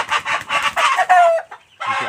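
A rooster of a local Indonesian fighting-cock breed crows loudly and close by in a few rough, raspy bursts, with a short pause before the call starts again.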